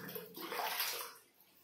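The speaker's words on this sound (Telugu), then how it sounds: "నేను 6 జగ్స్ వాటర్ వేసుకున్నాను" Water pours steadily into a DMR 3 kg portable mini washing machine, a close, continuous splashing rush that eases off near the end.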